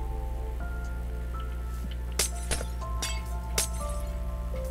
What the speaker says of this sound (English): Oh, the sound of breaking glass in Minecraft is so nice.